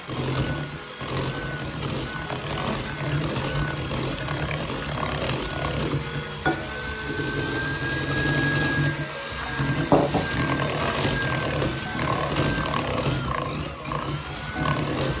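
An electric mixer beating eggs one at a time into Christmas fruit cake batter, a continuous whirring motor hum with faint scraping through the bowl, steady and close, with no talk.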